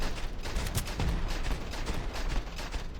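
Rifle fire in the space game Starfield, a steady run of loud, close shots packed densely across the whole stretch with little gap between them, heavy low thumps under sharp cracks, no talk.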